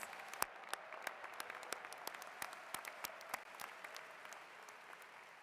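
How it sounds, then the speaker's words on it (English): Steady applause from a crowd, many hands clapping with scattered sharper claps standing out, continuing at moderate level without any voices. "Let's give another round of applause to our soloist, Dylan Valderas."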